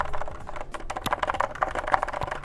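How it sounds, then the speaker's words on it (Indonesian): Typing on a Genshin Impact Keqing mechanical keyboard fitted with TTC Blue Moon or Brown switches: a fast, uneven patter of close keystrokes with soft clacks, alone with no voice. "suara keyboard TTC Blue Moon atau Brown Switch tuh kayak gini"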